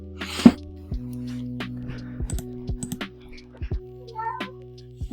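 A house cat gives one clear, loud meow close by, followed by scattered keyboard tapping and mouse clicks over a steady electrical hum.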